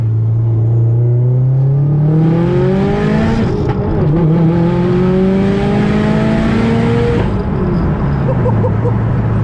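A 450-wheel-horsepower big-turbo Subaru WRX pulls hard from inside the car, its loud engine note climbing through the revs, dropping briefly at a shift, then rising again before easing off near the end.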